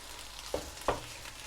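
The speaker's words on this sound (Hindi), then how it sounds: "चिकन को हम थोड़ा भूनेंगे, जब इसका कलर वाइट हो जाएगा" Chicken frying in a karahi over high heat, a faint sizzling bed with two quick scraping stirs of a spoon against the pan.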